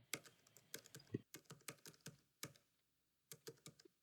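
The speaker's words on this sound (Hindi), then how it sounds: "अब मैं इसमें टाइप करूंगा" Fingers tap out short bursts on a computer keyboard while Java code is being written. Crisp, close keystrokes come in irregular clusters separated by brief pauses.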